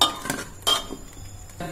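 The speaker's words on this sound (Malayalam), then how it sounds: "കുറച്ച് കാഷ്യൂസും എന്നിട്ട് നന്നായിട്ടൊന്ന് ഇളക്കി കൊടുക്കാം" A metal spoon stirs a pot of kheer with cashews, giving a few sharp clinks and scrapes against the pot in quick irregular strokes, close and clear.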